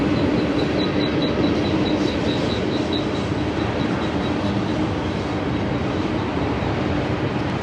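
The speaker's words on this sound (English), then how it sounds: "They don't go very fast, but my God, there's a lot of stuff on that train." A slow freight train rolls steadily past on Route 66, a dense continuous rumble and rattle of wagons with a faint high squeal, close and unbroken.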